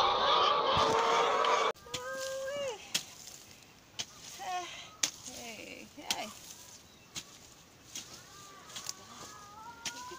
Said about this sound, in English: You can see there's so many, and the chickens, they are calm.